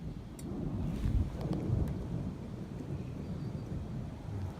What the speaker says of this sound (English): passing thunderstorm.